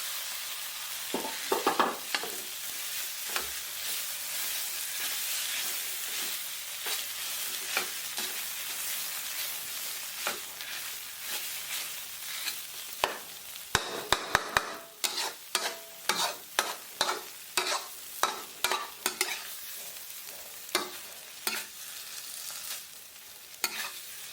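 Chili-bean paste for a Northern Thai pounded-bean dish with pea eggplants fries in a pan with a steady hiss, then repeated sharp scraping stirs grow louder and more frequent toward the end, with no voices.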